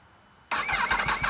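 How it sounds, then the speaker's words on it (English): A Yamaha MT-10 motorcycle fitted with an Akrapovic slip-on exhaust, already warmed up, fires up abruptly after half a second of quiet hum, then settles into a loud, close, throbbing idle with uneven pulses. "I'll give it a quick start and we can hear the sound of it when it's warmed up."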